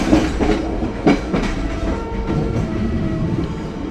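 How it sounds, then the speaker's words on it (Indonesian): Passenger train Sangkuriang, a compartment-suite service, pulling out of Kalibaru station in Indonesia, a low rolling rumble with a few distinct clickety-clack wheel thumps early on, close and steady. "Saat ini kereta api Sangkuriang berangkat stasiun Kalibaru."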